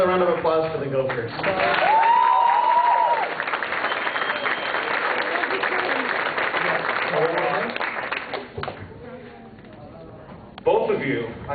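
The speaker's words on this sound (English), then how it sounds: "Another round of applause for the Gophers." A convention audience applauds volunteer Gophers at a closing ceremony, with dense sustained clapping under an amplified voice that speaks at the start and again near the end, fading toward the close.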